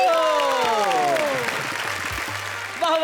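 At a Hindi poetry show, a voice trails off with a sliding tone as the audience's applause swells underneath and continues, with a burst of scattered clapping rising again at the very end.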